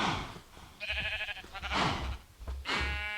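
Minecraft sheep bleating in the blocky game world, three distinct nasal bleats spaced about a second apart over quiet background, no talking.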